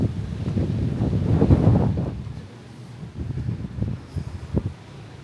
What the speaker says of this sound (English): I'm holding on my hat here because the wind's getting strong